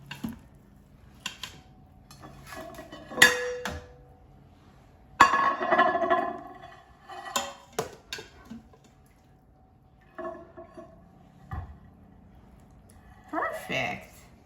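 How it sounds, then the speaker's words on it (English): Cooked turkey wings lifted out of an Instant Pot, with scattered clinks and knocks of utensils against the metal pot and a few soft wet sounds, separated by quiet gaps. "Now let me take out the turkey wings from the Instant Pot."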